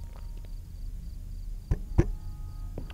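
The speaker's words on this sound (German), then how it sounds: "Er klopft die ganze Zeit." Two sharp knocks on a door in the horror video game Fears To Fathom, closely spaced and fairly near, standing out against a quiet, hissy background with faint chirping.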